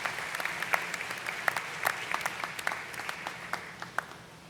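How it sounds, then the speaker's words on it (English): Audience applause following an upper school choir performance at a 2019 preparatory school graduation ceremony in Scottsdale, Arizona; steady, moderately distant clapping from a large crowd with scattered sharper claps standing out, continuing throughout. "Let's give another round of applause for the awesome upper school choir performance."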